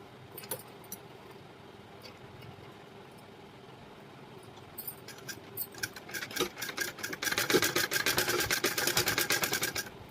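Sewing machine stitching a fusing-cloth lining onto a round blouse neckline, the whir quiet at first and then running steadily louder and denser over the last few seconds, with no talk.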